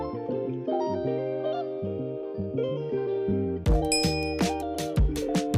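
A bright bell-like ding rings out partway through, followed by a few sparkling chime hits layered over steady background music.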